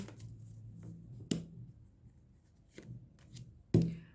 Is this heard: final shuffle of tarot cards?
yes